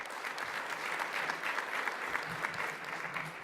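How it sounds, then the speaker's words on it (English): Applause from a conference audience at a business and investment summit: sustained, even clapping from a sizeable crowd, moderately loud and steady throughout. "Let's give the organizers a round of applause."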